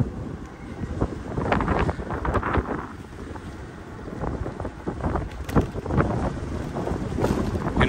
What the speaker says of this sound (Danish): Men nu er der ret meget vind.